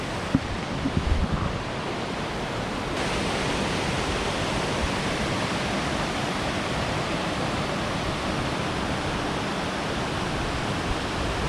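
A waterfall in the Senaru area of Lombok, near Mount Rinjani, roars as a loud, constant broadband rush of falling water, with a few faint knocks at the start.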